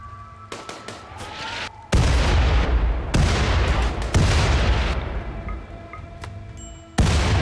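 An aerodrone salvo fires during a RimWorld battle, with loud booming bursts of gunfire and explosions in several heavy rolling blasts separated by brief quieter gaps. The final blast cuts in abruptly at the end.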